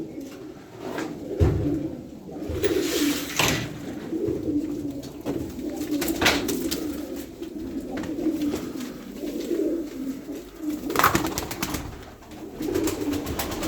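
Pigeons coo repeatedly nearby in low, throaty murmurs, with wing flaps and light rustling scattered throughout.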